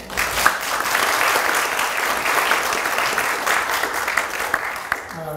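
An audience applauds after a lecture at a memorial astronomy workshop, with dense steady clapping filling the room for several seconds, fairly close, and a voice beginning just at the end.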